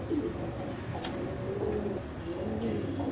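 Fancy homer and giribaz pigeons coo in low, soft, repeated throaty calls close by, layered over a steady murmur of background noise with a brief faint chirp.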